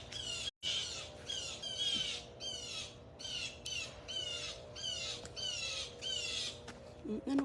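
Several birds in trees squawk and call continuously in a noisy chorus, harsh rasping cries repeating in quick succession over a steady background hum.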